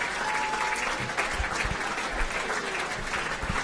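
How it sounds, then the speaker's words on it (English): A club audience at a football awards medal night gives a sustained round of applause for Jemima Wrigley, continuous crowd clapping with a few louder thumps and a faint tone beneath. "Ladies and gentlemen, give it a round of applause."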